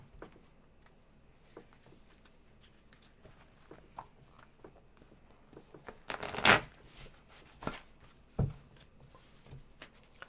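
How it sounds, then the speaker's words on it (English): Tarot cards are shuffled on a table with soft, scattered rustles and taps, then a louder riffling burst midway and a few more handling noises, fairly quiet overall. "I'm having trouble shuffling them"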